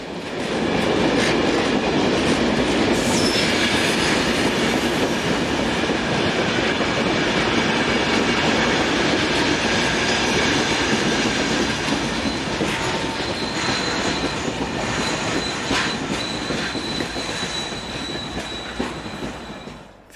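An SNCF BB15000 electric locomotive departs Thionville hauling a Luxembourg–Paris passenger train, a loud steady rumble of rolling wagons with wheel clatter, high squealing tones and electric whine over twenty seconds, gradually easing.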